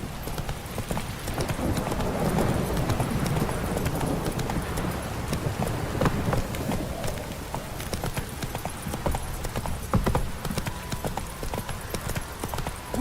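Steady rhythmic clip-clop of horse hooves throughout, fairly loud and close, with a faint whinny, in the video game The Witcher 3.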